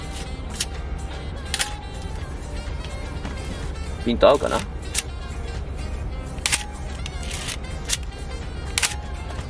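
A Pentax Super A film SLR fires its vertically travelling mechanical shutter with one sharp, bright click about midway, under steady nearby talk.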